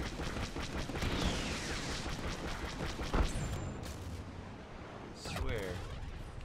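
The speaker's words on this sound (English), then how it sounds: "Our Y-Wings finished their bombing run." Explosions and heavy blaster fire rumble throughout as a Y-Wing squadron makes a bombing run in Star Wars Battlefront II, with a sharp blast near the middle and another burst toward the end, loud and dense.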